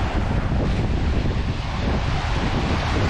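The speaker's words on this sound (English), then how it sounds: "See the boat's making her way through the water, leaving a nice bit of wake as well." A boat cuts through open water off Port Stephens, leaving a wake, heard as a steady roar of wind buffeting the microphone and rushing water with no voices.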